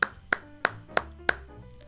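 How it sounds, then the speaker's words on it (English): Five sharp, close handclaps in a steady rhythm about a third of a second apart, like one person clapping alone in a quiet room. Each clap rings briefly and fades before the next. "Round of applause."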